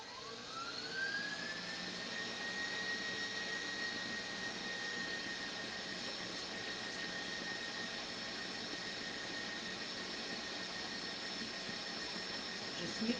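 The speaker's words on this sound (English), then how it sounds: "we're going to turn that mixer back on." An electric mixer whipping egg whites for a spinach and cheese soufflé, a steady whirring whine that rises in pitch as it spins up, then holds constant and fairly quiet throughout.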